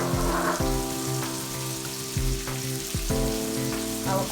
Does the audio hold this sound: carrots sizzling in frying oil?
yes